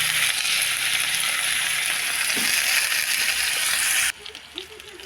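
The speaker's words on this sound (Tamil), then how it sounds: "ஈரப்பிலாக்கா வதக்குறேன்." Breadfruit pieces sauté in hot oil in a pan with onion, garlic, ginger and curry leaves, giving a loud, steady sizzle that cuts off abruptly near the end, leaving a few faint clinks and stirring sounds.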